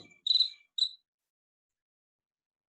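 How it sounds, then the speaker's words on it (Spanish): Two short, high cricket chirps sound close and clear during an online class session. Silence follows, then a brief dull knock at the very end. "Poderoso, infalible el grillo."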